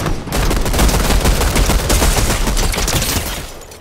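A blue SMG in Fortnite fires a rapid sustained burst, dense fast repeating shots lasting several seconds at close, loud level.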